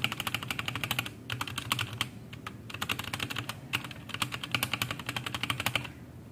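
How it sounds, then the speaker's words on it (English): Rapid clacking of an E-YOOSO Z11 60% mechanical keyboard's keys, typed in bursts with short pauses, includes hollow thumps from a space bar, close and clear. "The space bar, of course, sounds a little bit hollow"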